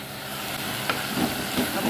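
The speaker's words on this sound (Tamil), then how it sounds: "நல்லா சேர்த்து எல்லாத்தையும் ஒன்றா வதக்கி விட்டுருலாம் நல்லா அடுப்பை வந்து ஆனில் வச்சே வதக்குங்க" Okra and spices sauté in a pan on a stovetop, giving a steady, close sizzling hiss throughout with a few soft stirring scrapes and no talking.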